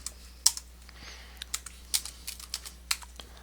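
Quick, irregular clicks of typing on a computer keyboard while entering text in drafting software, with isolated sharp keystrokes and short bursts spaced over a few seconds against a faint steady hum.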